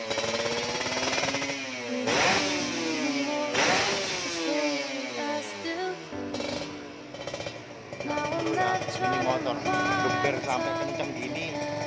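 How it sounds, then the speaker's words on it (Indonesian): A modified 2015 Ninja RR motorcycle engine revs up and down repeatedly, its pitch rising and falling in loud, close bursts with brief gaps between throttle blips. "Satu kali geber, satu kali langsung nyalain motor"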